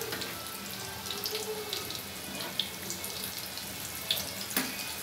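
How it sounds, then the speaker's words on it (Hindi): Water being drained out of a cooking pot in a home kitchen, a steady soft pour and trickle lasting throughout, with a few faint clinks and no talk. "और इस पानी को निकाल देती हूँ।"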